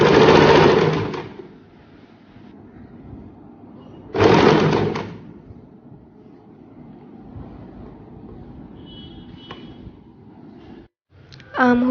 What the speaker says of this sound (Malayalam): അതുപോലെ തന്നെ ബാക്ക് സൈഡിൻ്റെയും ഈ ആം ഹോളും ഹൂക്കും നെക്കൊക്കെ ഒന്ന് സ്റ്റിച്ച് ചെയ്ത് കൊടുക്കാം.